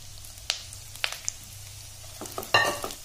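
Charoli and melon seeds fry in a pan for sheer khurma, giving a faint, soft sizzle broken by a few sharp pops and stirring scrapes, close and otherwise quiet.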